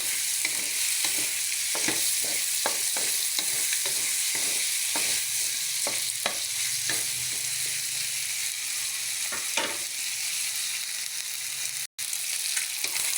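Chicken wings with bottle gourd frying in a pan, a steady sizzle with repeated close scraping strokes of a utensil as the pan is stirred, no talking.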